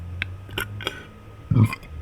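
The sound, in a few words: burp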